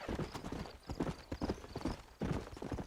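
Horse hooves clip-clop steadily and close in Red Dead Redemption on Xbox One, a brisk, even trotting rhythm with a brief neigh, heard almost alone.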